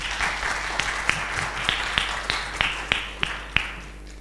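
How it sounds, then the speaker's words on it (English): A crowd applauds steadily, with a dense wash of clapping and a few sharper, louder claps standing out at a regular pace. "can you help me to clap hands for him as well?"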